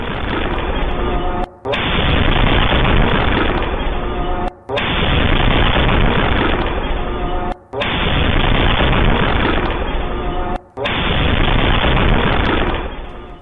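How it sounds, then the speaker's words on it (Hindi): A loud, continuous roar of gunfire and blasts, cut into a few long bursts separated by brief gaps. "आपको गोलीबारी और धमाके दोनों की आवाज सुनाई देगी"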